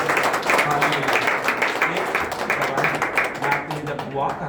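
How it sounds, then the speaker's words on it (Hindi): A church congregation at a Sunday meeting in Ajman claps loudly and continuously, a dense wash of many hands close by, with some voices mixed in. "जोरदार ताली"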